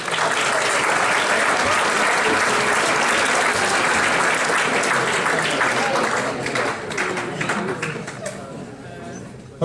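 A crowd at a high school winter sports banquet claps and cheers for the coaches in a loud, dense, sustained ovation that tapers slightly near the end.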